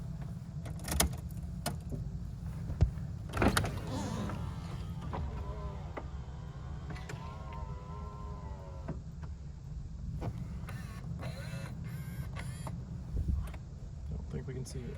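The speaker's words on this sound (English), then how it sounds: "You do have power windows, power mirrors. We'll kick those on here." A 1998 European-market Honda Integra Type R's electric power window motor whirs steadily for several seconds inside the car, with door and interior clunks around it and a voice talking at the start.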